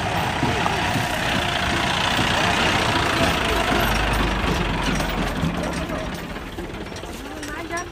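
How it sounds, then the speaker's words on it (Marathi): A tempo truck, just arrived at a village palanquin festival, idles with a steady low rumble as crowd noise and voices carry over it. "हा बघा, आम्हाला निवडायला टेम्पो आलाय अंजरल्यातून स्वप्नील दराचा"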